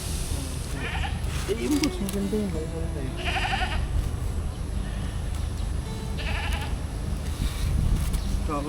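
Several goats bleat in short, wavering calls at intervals, close by at a goat market in Sariaya, with people talking in the background throughout.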